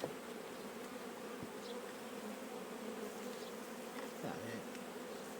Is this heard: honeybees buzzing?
yes